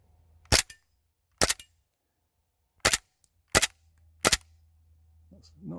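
An Auto 9 airsoft pistol, gassed up, fires five separate sharp snapping shots on semi-auto at irregular intervals, close and loud against a low hum, with a faint rustle at the end.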